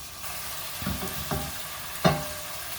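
Ground beef cooking in a pan, with a steady low sizzle broken by a few louder stirring scrapes and clatters, the sharpest near the end; no one speaks.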